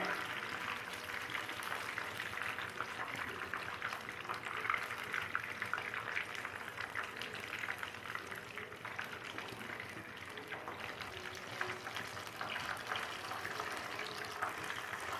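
Continuous crackling and sizzling of fish frying in hot oil, a steady, dense hiss with small pops, close by and without talk.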